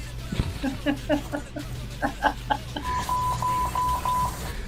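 A baby monitor beeps in repeating bursts of short electronic tones, followed by a quicker run of higher beeps, with a low hum underneath.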